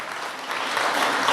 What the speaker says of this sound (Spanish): Dele un aplauso a Dios por eso.